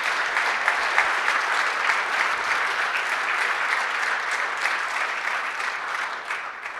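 Sustained applause from a conference audience at a violence prevention gathering fills the room evenly for several seconds, a dense steady clatter of many hands that tapers slightly at the end, with no talk over it.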